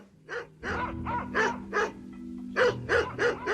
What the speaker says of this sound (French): Et ils entendent en arrière-plan des aboiements lointains